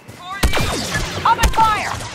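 Blaster fire on Endor in the Star Wars Battlefront 2 campaign, two sharp zapping shots about a second apart, loud and close, amid voices and battle noise.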